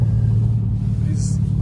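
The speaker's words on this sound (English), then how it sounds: "I think having a V8 sounds like this" The V8 engine of a tuned Mercedes C63s gives off a deep, steady idle rumble, heard close from inside the car with a faint higher hiss briefly above it.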